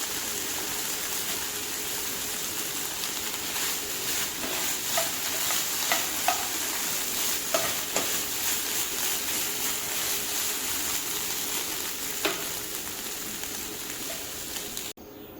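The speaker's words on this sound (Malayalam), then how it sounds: "ചിക്കൻ വെന്ത് വെള്ളമൊക്കെ വറ്റി വരുമ്പോൾ നമുക്കിത് മാറ്റി വയ്ക്കും." Chicken for a spicy Kerala chicken thoran simmers and fries in a pan as its liquid cooks off, giving a steady close hiss of sizzling with scattered pops and occasional stirring scrapes, no voices.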